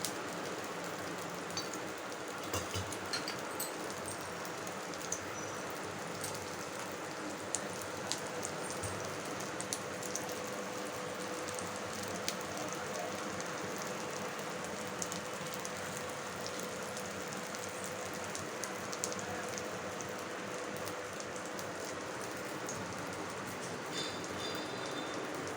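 Egg paniyaram cooks in ghee in a pan with a soft, continuous sizzle and scattered tiny pops, steady and fairly quiet throughout.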